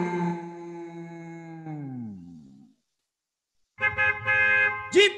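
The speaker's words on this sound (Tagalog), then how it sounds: "Busina ng jeep!" A Philippine jeepney horn honks in two bursts, a long steady blast that bends downward in pitch before cutting off, then after a short silence a second blaring honk with a sharp flourish at the end.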